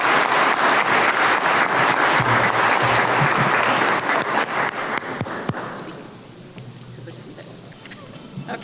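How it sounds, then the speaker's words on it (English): Audience applause rises in the New Jersey General Assembly chamber during a Black History Month honoring, a thick sustained wash of many hands that slowly tapers after five seconds into scattered claps with a low hum. "Let's give them a round of applause."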